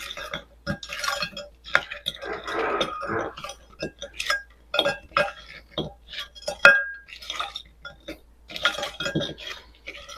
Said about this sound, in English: I'm going to start mixing my sodium hydroxide in and start getting these melted down